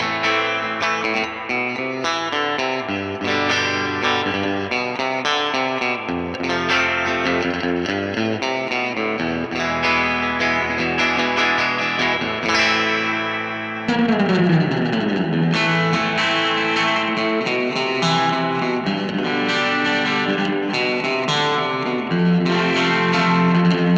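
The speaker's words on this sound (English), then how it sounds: "The AC15 is an iconic amp with really great clean and distorted tones." A Vox AC15 guitar amplifier carries continuous electric guitar playing, with chords and riffs moving from a clean tone to a thicker, distorted sound partway through, loud and close without talk.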